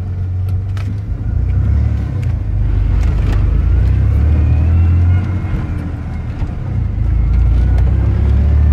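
A 2WD Ford F150 pickup truck drives along, its steady low engine rumble and road noise loud and continuous, with slight rises in revs throughout.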